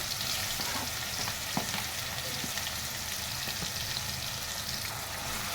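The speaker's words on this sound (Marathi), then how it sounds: "आता मी टाकते कांदा आणि टोमॅटो एकत्रच टाकते." Onion and tomato frying in a pan of oil for beetroot pulao, a steady, dense sizzle running throughout at close range without any talk.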